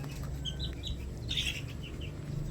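Young Sweater and Gilmore Hatch gamefowl chickens of one and two months in a simple breeding pen give short clucks and chirpy calls, a few scattered bursts over a low steady background hum, fairly quiet with no talking.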